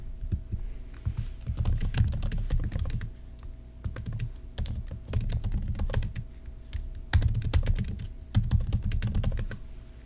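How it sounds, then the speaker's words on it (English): Typing on a computer keyboard up close, bursts of quick clicking keystrokes separated by short pauses, alone with no talk. "Some little typing ASMR."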